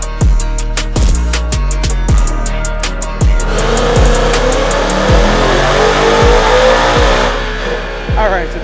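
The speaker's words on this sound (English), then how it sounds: "So we're going to take the car, get it up on the dyno and grab a baseline number" A 2018 Mustang GT with a Roush supercharger revving hard on a dyno, loud rising engine sweeps with sharp gear shifts in quick succession, the whine climbing over the roar as the run builds.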